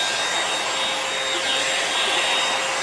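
A REVLON One-Step hair dryer brush runs steadily and loudly at close range, a constant airy whoosh with a faint motor whine, no voices.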